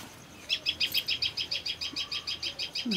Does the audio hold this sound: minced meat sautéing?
no